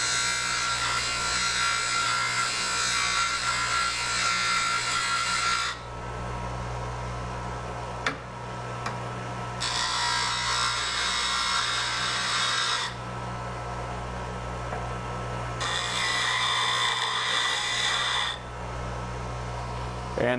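A bench grinder sharpens the two sides of a lathe parting tool, set in a grinding jig. The grinding comes in loud, steady bursts of about five seconds, with a lower motor hum carrying on between them. No one speaks.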